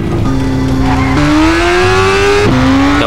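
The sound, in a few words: jeep driving off in cartoon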